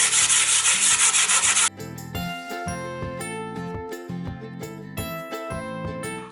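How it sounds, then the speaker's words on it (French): Steel wool rubs hard against a used slate plate in a harsh, gritty scrubbing rhythm, close and loud. Then a run of bright, ringing tinkling tones follows as the scrubbing stops. "la paille de fer est le plus approprié pour frotter, surtout quand ce sont des ardoises qui ont déjà servi"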